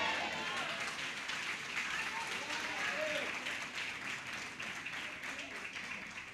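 Church congregation applauding at a worship service: a dense, steady wash of clapping fills the whole stretch at an even level, easing slightly toward the end, with voices mixed in beneath.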